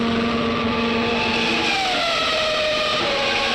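Mika Häkkinen's McLaren Formula One car pulls away from its pit stop at the 2001 Spanish Grand Prix, the engine a steady loud drone with a slowly shifting pitch and no voices.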